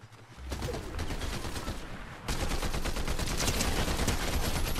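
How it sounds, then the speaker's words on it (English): Gunfire in the Fortnite video game, a dense rattling stream of rapid shots that grows louder partway through, played alone without talk. "Somebody's shooting over somewhere."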